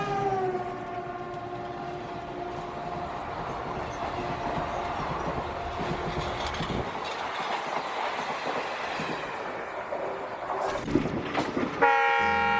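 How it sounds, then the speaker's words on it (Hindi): An Indian intercity express train, the Somnath–Ahmedabad Intercity Express, crosses another train, its horn sounding in long sustained tones over a continuous rumble of rolling wagons, the noise swelling and shifting as the cars pass close by. "हमारी ट्रेन को हमारी ही ट्रेन यानी कि सोमनाथ अहमदाबाद इंटरसिटी एक्सप्रेस जो है वो क्रॉस कर रही है।"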